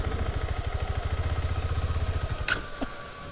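A KTM 390 Adventure motorcycle engine idles close by with a quick, even chug, then stutters and cuts out abruptly with a brief clatter, leaving near silence.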